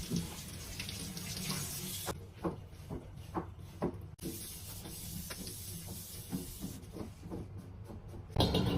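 Something washed by hand under a running tap at a sink, a steady hiss of flowing water with small splashes and knocks, fairly loud and close, with no voices.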